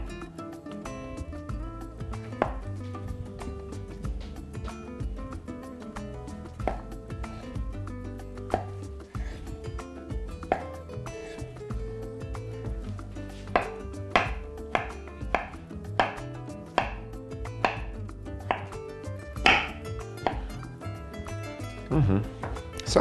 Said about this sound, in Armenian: Կտրատում ենք մանր խորանարդիկների։